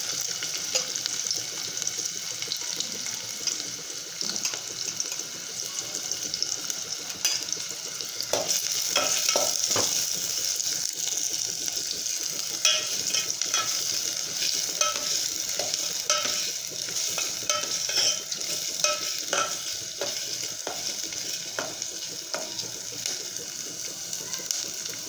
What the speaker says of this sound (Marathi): दोन मिनिट कांदा भाजून घेऊ।